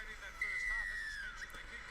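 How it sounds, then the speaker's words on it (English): A referee's whistle starts a National Rugby League round 7 match between the Melbourne Storm and the New Zealand Warriors, one long steady blast of about a second over a continuous stadium crowd roar. "There goes the whistle, we are underway as the Warriors kick off"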